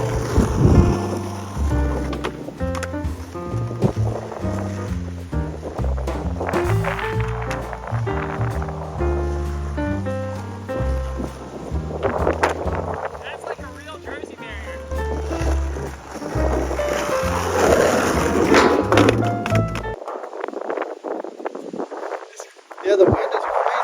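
Strong gusts buffet the microphone at an outdoor parking-lot skatepark, a heavy low roar surging and fading under ongoing talk and music, with the rumble briefly dropping out near the end.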